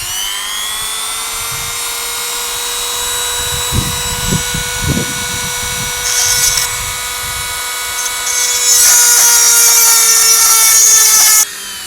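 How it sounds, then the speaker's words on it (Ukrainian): A Dremel fitted with a diamond-coated bit whines at high speed while sharpening a chainsaw chain, a steady shrill motor tone with brief harsher grinding bursts as the bit touches the teeth, close and loud throughout. "Вмикаємо, ставимо більше оберти. Починаємо гострити."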